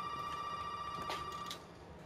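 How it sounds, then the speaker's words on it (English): A telephone ringing inside the Resident Evil 7 video game, a faint, steady electronic ring tone that sustains and then cuts off. "we gotta answer this phone"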